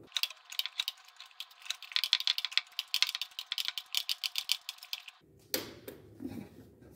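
A ratchet wrench clicking rapidly and steadily while loosening a car's oil drain plug, with dozens of close, sharp ticks, then a duller knock and clatter at the end.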